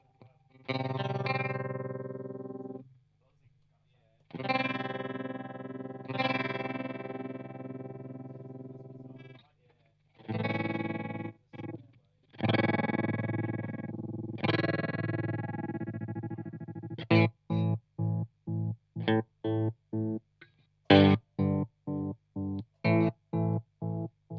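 Distorted electric guitar chords pulsing on and off through a TC Electronic Pipeline tremolo pedal, the chopping speeding up toward the end into rapid, gate-like stutters.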